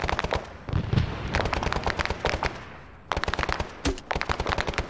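Automatic gunfire crackles in an Arma 3 firefight, with rapid machine-gun bursts of sharp cracks in several runs, a brief pause near the middle, then more dense bursts, loud and close.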